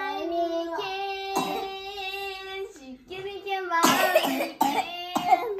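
A young girl coughs a few times in short harsh bursts, close to the microphone, between stretches of her own sing-song speaking and an adult voice talking indoors.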